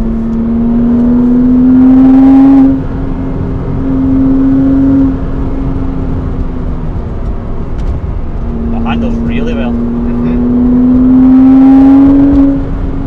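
A 2006-era Porsche Cayman 987.1 engine, heard from inside the cabin, drops to third gear and pulls through a country-road corner. The engine note climbs steadily in pitch, eases off, then builds again, loud and close throughout.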